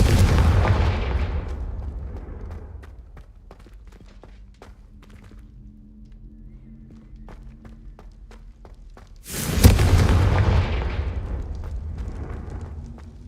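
Confringo fire spell cast in the Hogwarts Legacy video game, a heavy booming blast with a loud, broad burst at the start and a second powerful explosion later, with quieter rumbling and small impacts between.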